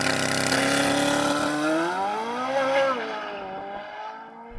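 Chevrolet Corvette C8 Z06 pulling away on a timed run, a loud high-pitched engine rising steadily through the revs and shifting, then fading as the car drives off.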